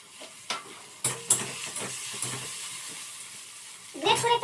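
Ginger dropped into a hot frying pan gives a soft, close sizzle with scattered stirring clatters and knocks, rising into a louder burst of crackling at the end.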